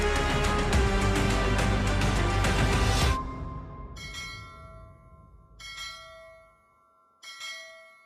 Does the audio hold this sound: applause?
no